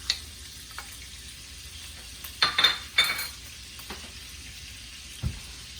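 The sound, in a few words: salted butter sizzling in a wok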